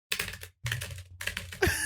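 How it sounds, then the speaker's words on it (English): Typing on a computer keyboard during a podcast chat, three quick bursts of close, clattering keystrokes separated by brief pauses, with no talk over them. "you're typing in chat"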